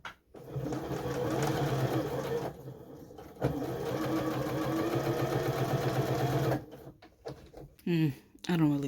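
Janome JW8100 sewing machine stitching at close range, a steady motor whir with a brief back-stitch pause, then a few short clicks and bursts near the end.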